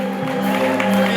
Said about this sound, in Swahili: Geza makofi kwa Yesu.